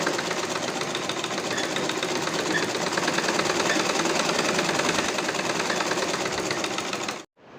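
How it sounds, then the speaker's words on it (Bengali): A sewing machine hems the narrow bottom edge of a dress, running fast and steady at close range for about seven seconds before stopping abruptly, with no talk over it. "সব শেষে জামার নিচের অংশে চিকন করে হেম করে নিচ্ছি।"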